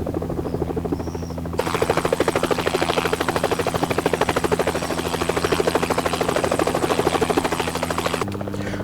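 A helicopter flies in Helicopter Simulator 2014, a search-and-rescue game, with a loud steady rotor chop and engine whine that shifts slightly near the end.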